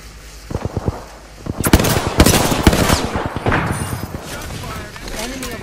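Rapid automatic weapon fire in an Apex Legends match, loud close bursts of shots in quick rhythm followed by trailing impacts and a quieter tail, with a character's voice over part of it.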